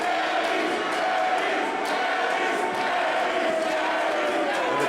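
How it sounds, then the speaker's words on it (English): A Canadian Apex Wrestling crowd roars in a dense, sustained wash of cheers and jeers, loud and continuous throughout. "And the crowd is torn."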